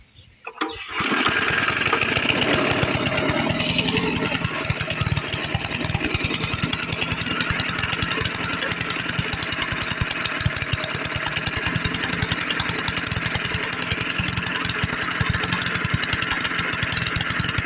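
A really old push lawn mower engine sputters, catches and starts after a flooding problem, then keeps running roughly and loudly with uneven chugging pulses from a troubled carburetor.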